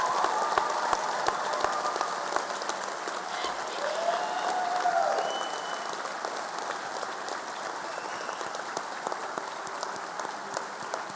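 An audience claps steadily at a recruit graduation ceremony, a dense wash of applause that swells slightly near the middle and then holds on evenly.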